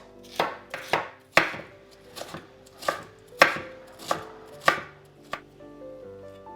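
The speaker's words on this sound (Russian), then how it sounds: "И один сладкий болгарский перец я также нарезаю мелко." A knife chops a sweet bell pepper finely on a cutting board, eight or so crisp, evenly spaced thuds, close and clear with no talking.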